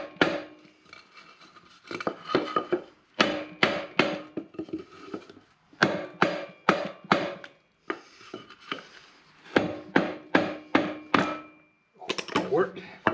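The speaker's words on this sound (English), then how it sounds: "I guess I could try driving the aluminum back with a block" A block is hammered against aluminum to drive it back into place on a Generac 7000 EXL generator engine during disassembly. Sharp knocks come in quick clustered bursts with short pauses between them, close and fairly loud.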